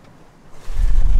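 Strong wind buffets the microphone while sailing, rising sharply midway into a loud, steady low roar with faint water and boat noise beneath.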